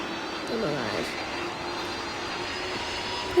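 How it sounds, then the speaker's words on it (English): A fixed-wing airplane engine drones steadily in a video game, a continuous mid-level hum with a brief rising whine early on, close and unbroken. "Get this plane out of here, bro."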